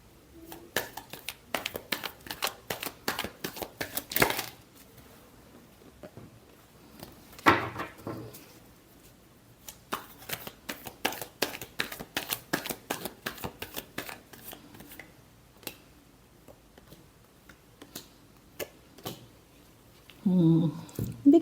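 Playing cards riffled and shuffled by hand in repeated bursts of rapid flicking, with short quiet gaps between rounds and a faint murmur of voice near the end.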